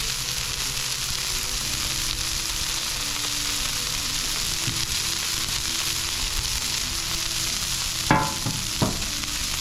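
Steak bites frying in oil on a hot griddle, giving a steady, dense, close sizzle throughout, with a couple of brief metallic scrapes or clinks near the end.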